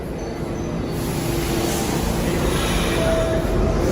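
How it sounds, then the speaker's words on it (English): Loud trains pass nearby outdoors, giving a steady, broadband rumble and roar that fills the whole clip, with faint high squeals riding on top and no speech. "I hope y'all can hear with all these loud ass trains here"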